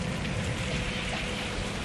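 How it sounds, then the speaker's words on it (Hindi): Heavy rain pours steadily in a radio drama, a dense continuous hiss of drops drumming on a surface with a low rumble underneath, close and unbroken throughout. "बाहर बहुत ही जोर से बारिश हो रही थी"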